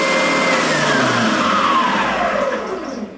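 A Triton oscillating spindle and belt sander runs with a steady loud motor whine and rasping drone, a descending tone sweeping through, then winds down and fades near the end.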